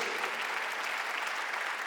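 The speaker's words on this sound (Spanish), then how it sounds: "¿Qué le parece si le damos un aplauso al Espíritu Santo por lo que Dios hace?" A church congregation claps together during a sermon, dense continuous applause held at an even level for the short stretch, with no voices on top.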